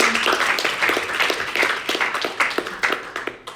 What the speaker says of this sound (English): So can I get another round of applause just for him?